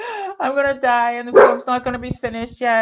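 Dogs bark and yip in short sharp bursts indoors, loud and close, interleaved with and partly under a person talking.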